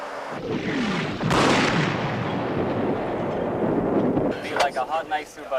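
A military unit fires on command in a 1995 war setting, with booming artillery-like blasts and rumbling gunfire under radio-style voices giving orders, then quieter crackling shots toward the end.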